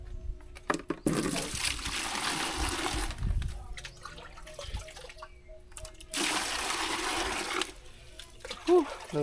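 Water fetched from a household supply and poured, heard as two long broadband splashing bursts of pouring or gushing water, each lasting a couple of seconds, with quieter handling and scattered talk in between.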